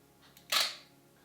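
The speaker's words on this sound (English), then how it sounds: "Let's take the first test shot now." A camera fitted with a Canon 100mm macro lens fires a single sharp shutter click for a test shot, close and crisp, with a brief fading tail in an otherwise quiet room.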